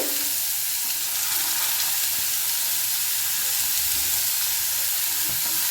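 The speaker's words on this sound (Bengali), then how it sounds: "গ্রেট করা ফুলকপিটা কিন্তু আমি কড়ার মধ্যে দিয়ে দিলাম।" Grated cauliflower fries on low heat in a kadai, giving a dense, even, close sizzle with occasional soft stirring scrapes and no voices.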